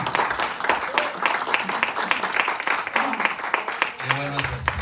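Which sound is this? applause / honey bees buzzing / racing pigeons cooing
applause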